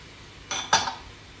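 Half a tin of chopped tomato is tipped into a pan of cabbage and rice, making two quick metallic clinks of tin against pan, close and brief, with quiet before and after.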